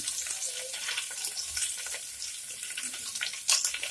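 Steady crackling sizzle of onions and green chillies frying in hot oil, with a brief louder hiss near the end; no voices.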